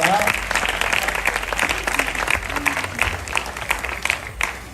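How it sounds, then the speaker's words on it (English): A crowd at a high school track awards night claps steadily for a few seconds, the sound fairly close and even, with a voice briefly audible near the start. "go ahead and clap it up for that"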